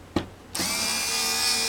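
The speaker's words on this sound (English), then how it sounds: "here comes the power tools. Put it in reverse," A power drill set in reverse backs the screws out of a PC case, with a short tap followed by the motor spinning up into a steady, bright whine that holds to the end.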